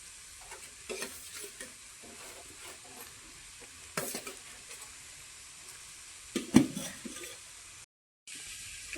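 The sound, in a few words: stirring rice into egg biryani in a pot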